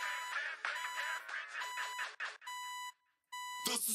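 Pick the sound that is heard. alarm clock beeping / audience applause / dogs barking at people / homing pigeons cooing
alarm clock beeping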